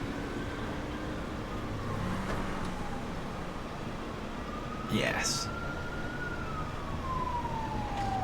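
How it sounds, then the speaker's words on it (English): An ambulance siren in GTA V rises and wails as the vehicle arrives, heard at moderate distance over steady traffic and game noise, with people talking briefly. "I think the ambulance is about to make an appearance."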